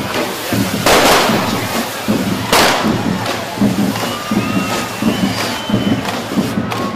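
Loud firecrackers crack and pop repeatedly over steady drumming and a noisy outdoor crowd at a town festival with a dragon troupe.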